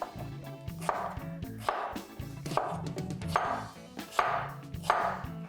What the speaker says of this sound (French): je vais faire ça encore en cubes, vraiment la même taille que les autres légumes